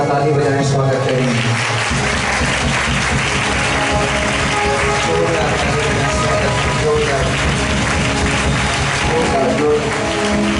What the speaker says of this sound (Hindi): आत्मा को जोरदार ताली बजाएं, स्वागत करें।